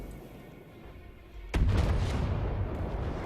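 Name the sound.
oversized frag ammunition firing in video game From the Depths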